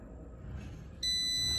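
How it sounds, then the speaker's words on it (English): A backup battery power station gives off a steady high-pitched electronic beep that starts abruptly partway through and holds on, close and fairly loud over a low background hum. "You see it? It's beeping."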